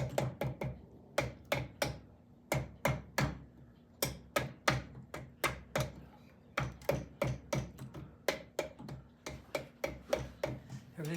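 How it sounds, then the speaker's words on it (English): Rubber hammer tapping down pistons and cylinder jugs on a 1971 Norton motorcycle engine, a steady series of sharp close knocks in quick bursts with short pauses between them. "I'm going to get this rubber hammer"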